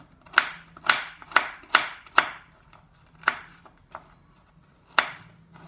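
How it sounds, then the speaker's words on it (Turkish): A knife chops walnuts sharply on a cutting board, a quick run of five strikes followed by a few slower, spaced chops, close and crisp. "Üzerine koyacak olduğum cevizlerimi doğrayacağım."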